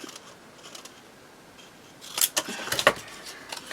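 Scissors cut material for a handmade Christmas ring bound journal, giving a quiet stretch and then a quick cluster of crisp, close snips and rustles.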